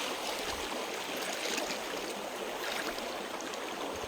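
Strong waves at a shoreline where shells are being gathered, a continuous broadband wash of surf and churning water, loud and steady with no voices.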